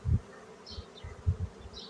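Honeybees working spring hive frames that are stocked with bee bread and pollen give a faint, low buzzing hum, broken by a few soft handling thumps close by.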